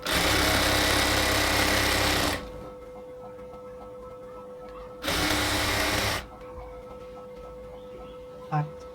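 An electric sewing machine stitching the border of a women's XL top whirs loudly in two bursts, a long run and a shorter one, separated by quiet pauses with faint handling noise.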